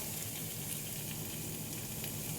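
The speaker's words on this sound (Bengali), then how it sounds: "এখন পরিমাণ মতো জল দিয়ে দিব" Water goes into a pan of frying potato and egg curry masala, giving a steady, dense sizzle that fills the short stretch evenly with no voices.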